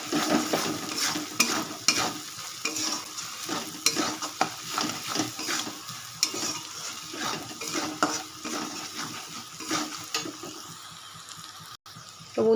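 Spices being sautéed in a pan with a spoonful of sugar, frying and sizzling while a spoon repeatedly scrapes and stirs against the metal, close and fairly quiet, with no talking.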